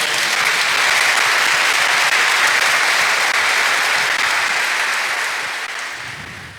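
A church congregation at Mass breaks into loud, dense applause, a continuous roar of many hands that holds steady before fading away near the end.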